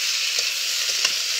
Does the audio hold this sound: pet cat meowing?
no